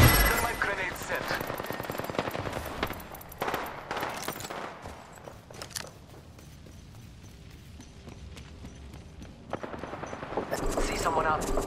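Bursts of rapid automatic gunfire and shots in an Apex Legends match, loud at first, then a quieter lull before firing picks up again near the end, with game voice lines mixed in.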